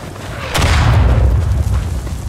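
A mortar shell bursting in the World War I shooter Verdun: a sharp close boom that gives way to a long rumbling roar, loud and alone.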